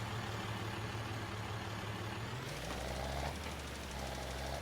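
A tractor engine in Farming Simulator 22 drones with a steady, heavy low rumble and a rough knocking edge while pulling a load, and its pitch shifts partway through.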